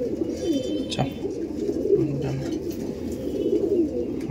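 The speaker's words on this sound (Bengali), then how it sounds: "পায়রা দেখুন বন্ধুরা" Owl-face (pecha mukho) Madras pigeons coo in a steady series of low, rolling calls close by, with a soft murmur of background noise and no clear talk.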